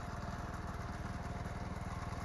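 Small engine of a garden tractor running at a steady idle with an even, rapid chugging pulse, close and moderately quiet, with no voices.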